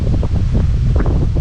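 Wind gusting to about 15 to 17 buffets the microphone outdoors in winter in a constant low rumble with gusty swells, loud and close, with no voices.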